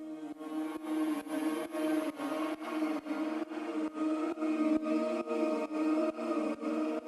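A sustained synthesizer ambience pad with layered harmonic tones, pulsing in a steady rhythm about twice per second, playing alone with no voices.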